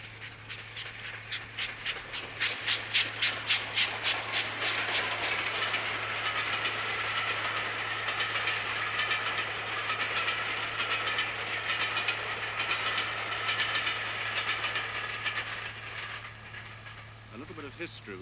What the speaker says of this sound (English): There's a distinctive noise coming up to Potter's Bar